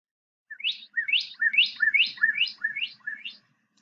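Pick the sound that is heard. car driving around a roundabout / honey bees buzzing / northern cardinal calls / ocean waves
northern cardinal calls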